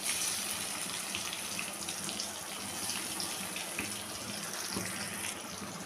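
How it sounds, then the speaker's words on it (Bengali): Rohu fish pieces fry in hot oil over a low gas flame, giving off a steady, dense sizzle that hisses up close throughout without pause. "গ্যাসের ফ্লেমটাকে লো করে দিয়ে মাছগুলো যে তেলে দিলাম সেই সাথে মশলাটাও ছড়িয়ে দেব।"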